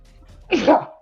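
A single close sneeze, sharp and breathy, bursting out of near silence during a tabletop role-playing game session.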